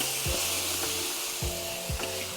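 Papuan highland vegetables for sayur buah merah are stir-fried in a pan: a steady, close sizzle runs throughout, broken by a few dull knocks as the utensil turns them.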